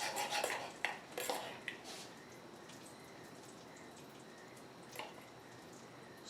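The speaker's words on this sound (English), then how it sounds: "Spoon that over the beef." Spoon and cutlery clink faintly against a plate as red wine gravy is spooned over pan-seared beef tenderloin, a few soft taps early on, then a near-silent stretch with an occasional light knock.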